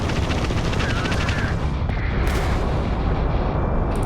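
Spaceship weapons firing during a space combat encounter in Starfield, a loud, sustained barrage of booming, rattling fire with a few brighter bursts layered over a heavy rumbling background.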